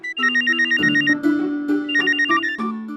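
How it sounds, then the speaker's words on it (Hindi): A mobile phone ringtone plays loudly and close, a repeating electronic melody of bright trilling notes with no voices over it. "ये तो मेरे फोन की घंटी।"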